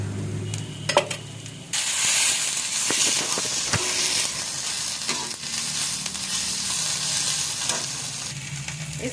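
Vegetables fry in a pan with ginger garlic paste, giving a loud, steady sizzle that jumps in intensity as the paste goes in, with occasional spoon scrapes and stirring, no voices.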